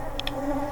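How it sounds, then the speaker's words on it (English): Honey bees buzzing around an open hive during an inspection, a steady close drone with a couple of brief higher whines from individual bees passing near. "the bees are starting to get a little more aggressive"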